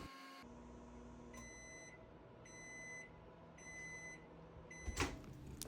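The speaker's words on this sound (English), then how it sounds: "You're going to throw it in the microwave for 18 seconds." Microwave oven heating peanut butter: a low steady hum runs throughout, with a series of short repeated beeps near the end and a clunk of the door opening at the close.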